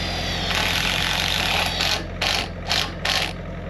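A powered driver sinks a self-tapping screw with a washer, whirring steadily and then bursting in three short, clattering pulses as the screw seats, with no talk.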